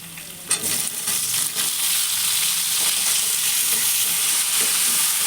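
Two finely chopped medium potatoes hit a hot pan, followed by a bright, steady sizzle that swells and holds loud and close, with faint stirring clatter underneath.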